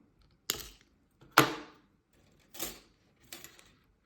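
Jewelry wire being snipped with a cutter while making a beginner's necklace pendant: four crisp, separate clicks spaced about a second apart, close and clear against a quiet background.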